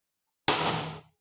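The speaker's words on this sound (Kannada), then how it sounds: "ನೋಡಿ ನಾನು ಹೊಡಿತೀನಿ ಇವಾಗ." A whole coconut struck once along its ridge line to crack it open, giving a single sharp, loud knock with a short ringing decay, close up and alone.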